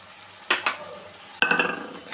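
Boal fish pieces and spices fry in hot oil in a pan, with two bursts of sizzling and stirring scrapes, the second louder and trailing off, over a quiet background.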